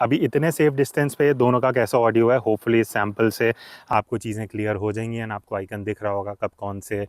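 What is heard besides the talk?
None of the usual background noises is heard.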